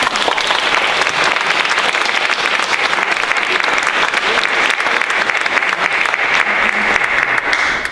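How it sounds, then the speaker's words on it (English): Loud, dense applause from an evening program audience at a historical society talk on Lithuanian coal miners, a continuous full round of clapping that tapers at the very end. "Another round of applause, please"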